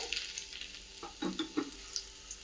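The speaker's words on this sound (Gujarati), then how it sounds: "આપણું ઘી ગરમ થઈ ગયું છે. એ આપણે સ્લો ગેસ ઉપર એમાં આ લસણ નાખીશું" Garlic dropped into hot ghee over a low gas flame, giving a soft crackling sizzle with a few light stirring scrapes, fairly quiet and close.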